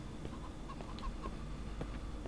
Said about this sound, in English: Oh, that chicken is freaking me out.